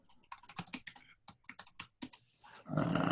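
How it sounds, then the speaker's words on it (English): Typing on a computer keyboard picked up over an online meeting call, quick bursts of close clicky keystrokes in uneven clusters, ending in a brief wash of broadband noise. "You hear the typing."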